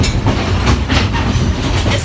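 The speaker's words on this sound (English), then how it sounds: "It's a train ride." A train rolls along near the Hiwassee River in Tennessee, a loud, continuous rumble with rhythmic clickety-clack of wheels on rail joints, heard from on board.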